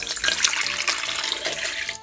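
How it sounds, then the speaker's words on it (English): Warm water pours steadily into a bowl of challah dough ingredients with a bright, splashy gurgle, continuous and close, no voices. "we're just going to splash in some warm water"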